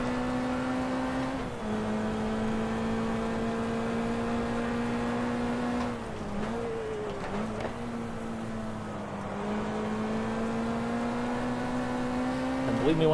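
TVR race car engine in GT Legends drones at a steady high pitch, with brief dips and rises at gear changes and a climbing rev near the end, while someone talks over it.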